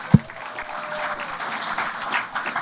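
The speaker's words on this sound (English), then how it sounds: "Give them a round of applause." Audience applause at a youth STEM event held at Google, a steady wash of clapping from a crowd after one sharp thump, moderately loud and continuous.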